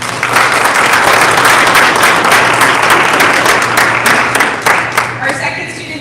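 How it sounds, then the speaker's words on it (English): A round of applause from the audience at a school board meeting honoring a student, steady and loud throughout, with a constant low hum underneath. "if you could give her a round of applause"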